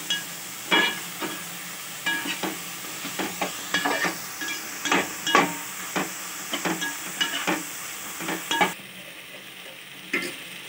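Tomatoes cooking down in a pan with chili powder for dal khichdi, with a steady soft sizzle under repeated close scraping strokes of a spoon stirring the pan.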